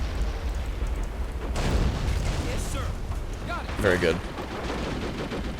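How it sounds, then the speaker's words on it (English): Artillery guns and gunfire from the WWII strategy game Men of War: Assault Squad 2, Pershing mod, during the capture of Le Shima airfield, rumbling battle noise with bursts of shots, under a voice. "let's get those guns fired up yet again"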